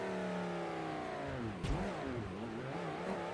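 A 1998 Gavril Grand Marshal engine in a video game revs against a two-step limiter. Its steady held drone slides in pitch, a sharp pop lands midway, and the note wavers and re-rises afterward at moderate level.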